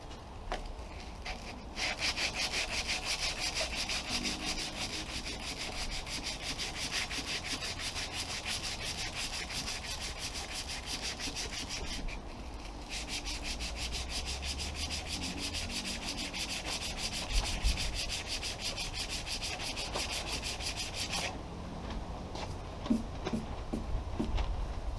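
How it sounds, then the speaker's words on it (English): Bodywork on a Mk3 Cortina Estate car being rubbed down, a long steady abrasive scraping that runs almost continuously, close and fairly loud, with brief pauses near the start and the end. "doing this bodywork, rubbing down and stuff, that it's got to be smooth"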